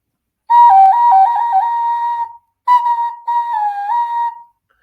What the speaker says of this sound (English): So it is literally a bird whistle.